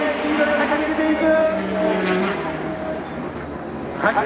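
A race car at Suzuka circuit speeds past on the straight, its engine roaring loudly at a steady pitch before fading slightly, with faint voices underneath.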